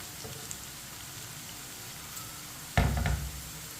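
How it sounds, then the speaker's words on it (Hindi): Okra frying in a pan, as in besan bhindi, gives a faint steady sizzle, then a louder scraping clatter of a spoon stirring near the end. "भिंडी को मैंने चम्मच चलाते हुए ब्राउन कर लिया"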